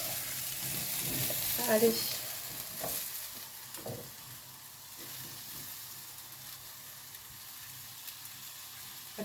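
Apples caramelizing with sugar in a frying pan give a soft, steady sizzle and crackle, with a few louder stirring scrapes near the start and one short spoken word.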